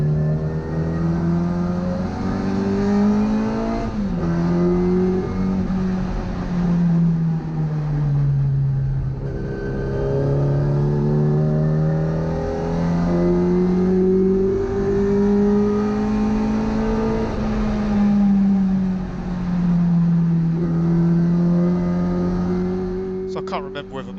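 Classic Mini race car engine at full power on track at Brands Hatch, a loud buzzing drone that rises and falls in pitch as it lifts off for braking and cornering and pulls away again, running steadily for the whole stretch with talk over it.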